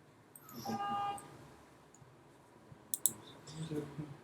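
A computer mouse clicks quietly during SAP software work, a few short sharp clicks clustered around the middle, with faint background tones and low room noise around them.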